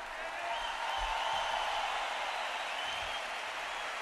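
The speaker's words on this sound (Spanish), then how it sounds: "Aplauso enorme para Paco." A huge stadium crowd at a concert in San Mamés, Bilbao, claps and cheers as a continuous, even roar of applause, with no voice over it.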